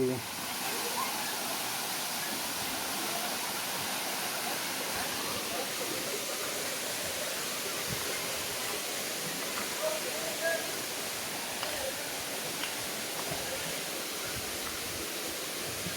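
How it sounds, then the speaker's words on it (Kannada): A waterfall near the Varavi Siddeshwara cave temple in Yekkeri gives a steady, dense rushing hiss of falling water, constant and fairly close throughout, with no clear talk over it. "ಮಸ್ತಾಗಿರುವಂಥ ಫಾಲ್ಸ್ ಐತಿ"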